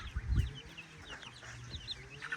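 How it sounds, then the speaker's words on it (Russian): Hens clucking in a low, irregular chatter, with a louder burst of bird calls near the start and scattered chick chirps over quiet farmyard background. "Теперь мои цыплята в безопасности."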